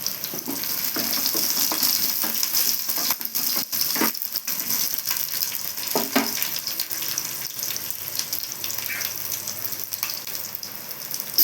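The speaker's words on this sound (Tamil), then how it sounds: "ஆயில் வச்சுருக்கேன் கடுகு சோம்பு பட்டை கிராம்பு சோம்பு கொஞ்சம் கருவேப்பிலை போட்டுக்கலாம்" Mustard seeds, fennel, cinnamon, cloves and curry leaves fry in hot oil for a chicken curry, a steady bright sizzle with scattered pops and crackles, close and continuous.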